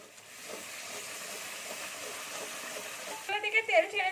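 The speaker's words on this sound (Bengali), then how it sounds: "এখানে আমার মশলাটা ফুটছে" Masala paste for a prawn and green tomato curry bubbling and sizzling in a pan, a steady close hiss with louder spitting bursts toward the end, while someone talks.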